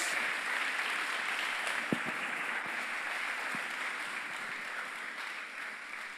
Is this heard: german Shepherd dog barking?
no